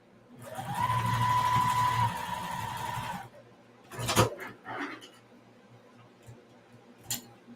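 A domestic sewing machine runs in one steady burst of about three seconds, stitching quilt patches, followed by scattered clicks and small handling knocks at close range.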